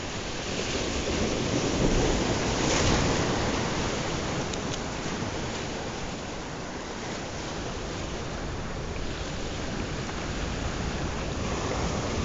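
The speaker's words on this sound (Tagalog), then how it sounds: "Kasi mababasaan ako dito. Inampas ako ng alon." Ocean surf roars continuously, a broad wash of crashing waves with wind buffeting the microphone, loud and close with no voices.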